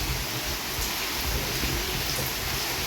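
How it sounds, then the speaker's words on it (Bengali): Steady rain pours down as a dense, even hiss that stays constant and fairly loud throughout, with no voices and no distinct individual drops standing out. "আর এখন বৃষ্টি হচ্ছে"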